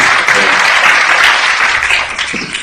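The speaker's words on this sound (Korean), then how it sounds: "응원의 박수 부탁드립니다" A room full of people applauds steadily to encourage a professor at a Korean panel forum on progressive politics, the dense clapping loud and sustained throughout before easing slightly at the end.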